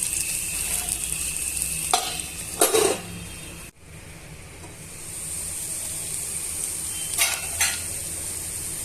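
Carrots being sautéed and stirred in a pan for semiya upma, a steady low sizzle and hiss with a few distinct spatula scrapes and knocks, close by and with nobody speaking.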